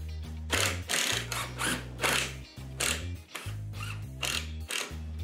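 A drill drives pocket hole screws into a wooden kitchen table, whirring in repeated short bursts with brief pauses between them, close and fairly quiet.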